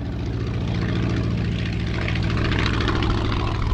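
The engine of a Polikarpov Po-2 biplane runs steadily, a loud, close, rattling low drone with a fast, regular chugging pulse and no break throughout.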